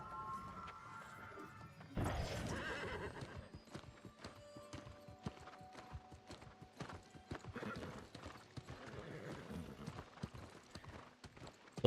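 Horse hooves clip-clop steadily in the New World fantasy game, with a horse neighing near the start and continuing footfalls and gear clatter throughout, fairly close and without talk.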